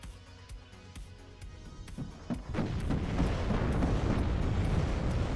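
Mortar rounds hitting in the WARNO strategy game: a series of sharp, distant thumps and cracks builds into a dense, continuous rumble of explosions that grows louder and fuller.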